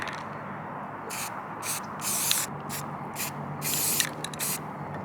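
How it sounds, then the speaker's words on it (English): Short hissing bursts from a spray can of metal primer on a Ford Transit roof rack install, several sprays of varying length separated by brief pauses, close by. "Time to spray."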